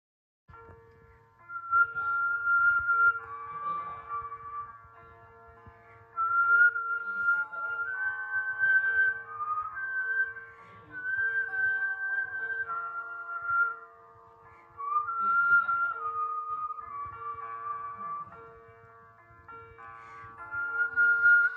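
Someone whistles a melodic tune in long continuous phrases with short pauses between them, steady and fairly close, with a soft low rumble underneath and no talking.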